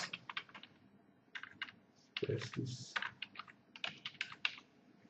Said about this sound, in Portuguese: Vamos digitar os dados aqui.